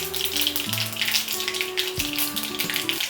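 Mustard seeds sizzle in hot sunflower oil for panikaram, a steady close frying hiss with faint popping throughout, while a sustained musical tone shifts pitch in the background.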